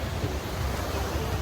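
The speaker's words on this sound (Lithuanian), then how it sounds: "Einu palei vandenyną, bangos ošia." Ocean waves wash onto a shore in India on an evening walk along the beach, a continuous close rushing surge mixed with some wind noise.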